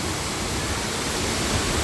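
Water pours steadily down Ulan-Ulan Falls, a waterfall whose spray falls like rain, making a dense, constant rushing roar close by with no pauses.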